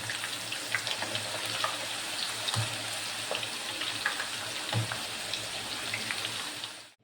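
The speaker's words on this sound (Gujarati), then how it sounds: "તો આ રીતે બધા બટેટાની વેફર આપણે પાડી તળી અને તૈયાર કરી દઈશું." Sliced potato wafers frying in hot oil at home, a steady dense crackling sizzle with bubbly pops, close and continuous throughout before cutting off at the very end.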